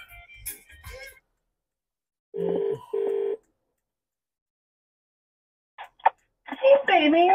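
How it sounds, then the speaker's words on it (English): A mobile phone gives two short tonal beeps inside a car while driving, with brief handling noises before and a person starting to talk afterward. "I just heard my phone beep, but I'm driving."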